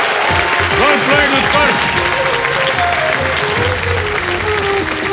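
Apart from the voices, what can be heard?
studio audience applause on a TV quiz show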